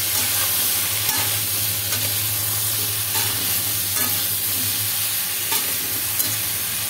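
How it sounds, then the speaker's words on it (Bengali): Vegetables with green chillies sizzle steadily in rice bran oil over low flame while being stirred, a loud continuous frying hiss broken by occasional scraping strokes of the spoon against the pan. "এবার আমি সবজিটাকে একটু ভালো করে নাড়িয়ে চাড়িয়ে একটু ঢাকা দিয়ে দিয়ে রান্না করব।"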